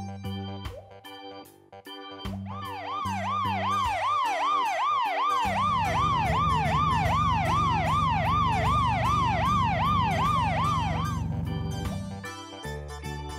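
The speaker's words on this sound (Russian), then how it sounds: "Это Эмбер. Скорая помощь." Robocar Poli Amber, a toy ambulance, plays a loud electronic wailing siren that rises and falls steadily for about eight seconds over a backing tune, with a few short toy tones before it.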